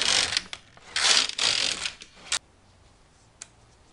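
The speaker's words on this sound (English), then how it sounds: "I'm going to bring everything out to all the way forward and let the machine knit it back" A knitting machine's carriage sweeping across the needle bed, bursts of rattling, clicking mechanism noise in quick passes, then sharp isolated clicks and quiet.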